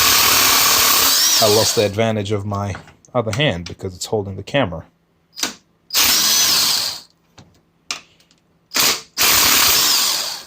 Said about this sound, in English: I'm going to cheat. I'll use my power tool